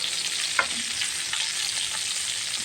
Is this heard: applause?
no